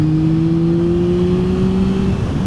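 2021 Yamaha MT-09 SP motorcycle engine pulling hard under throttle, a loud close-up rising whine and drone that climbs steadily before easing off near the end.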